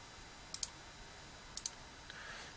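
Two quick double clicks of a computer mouse about a second apart, crisp and close in a quiet room, used to refresh a screen, followed by a faint tick.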